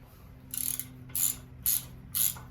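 Four quick bursts of a ratchet wrench snugging up bolts on a Harley-Davidson motorcycle, each short clicking run spaced about half a second apart over a low steady hum, close and clear.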